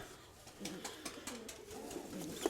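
Pigeons coo softly in a dovecote in repeated low, throaty bursts, close by, with light rustling and no speech.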